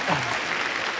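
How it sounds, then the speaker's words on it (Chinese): A television studio audience at a job-recruitment show bursts into brief, loud applause, a short dense wash of clapping. "我们掌声欢迎马总、刘总半年后到我们这儿应聘"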